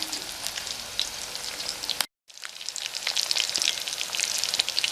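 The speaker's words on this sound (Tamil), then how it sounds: "மீன் 2 சைடு நல்லா ஃப்ரை ஆயிடுச்சு." Tuna pieces shallow-frying in oil for a South Indian fish fry crackle with a dense, bright sizzle, briefly cut off mid-way before resuming, close and continuous with no voices.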